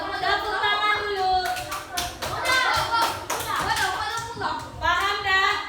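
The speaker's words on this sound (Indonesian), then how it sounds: "Tepuk tangan dulu." Elementary schoolchildren clapping in a classroom after a correct answer, a burst of quick, uneven hand claps mixed with teacher and children's voices talking over and between them.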